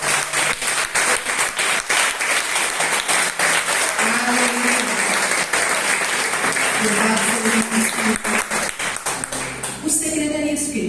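A church congregation at a Sunday morning service breaks into dense, loud, sustained applause that fills the room, with a voice and some music woven underneath.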